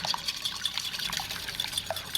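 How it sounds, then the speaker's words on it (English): A wire whisk scrambles eggs thinned with a little water in a bowl. Quick, light, wet tapping and swishing strokes repeat in an uneven rhythm, close and fairly soft. "you're just going to start to scramble your eggs with your wire whisk"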